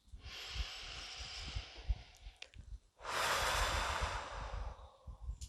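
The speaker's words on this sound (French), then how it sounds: "je vais pouvoir faire une respiration plus profonde, un peu plus poussée, pour remonter mon niveau de conscience" Two long, deep breaths during a guided relaxation session: a slow drawn inhale, a short pause, then a fuller, louder exhale, close and alone with no talk.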